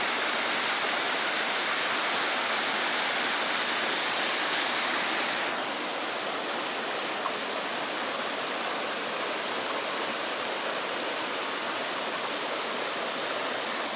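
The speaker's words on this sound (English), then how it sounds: "What number is this waterfall?" A waterfall in Maine roars as a steady, dense broadband rush, close and constant; partway through the sound dips slightly, as if the listening spot shifts, but the continuous water noise holds to the end.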